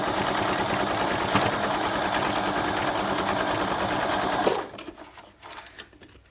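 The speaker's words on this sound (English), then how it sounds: "you can take it to the machine to stitch" A sewing machine runs steadily, stitching quilt block pieces for a Jacob's Ladder block, loud and close for about four and a half seconds, then stops abruptly, leaving faint handling noises.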